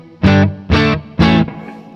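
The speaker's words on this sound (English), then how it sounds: "there's my clean signal. I'm running this guitar into a VFE Springboard for Reverb into the Tweed Deluxe." Three strummed clean electric guitar chords through a VFE Springboard reverb pedal into a Tweed Deluxe amp, each ringing loudly and evenly spaced, the last fading into a soft reverb tail.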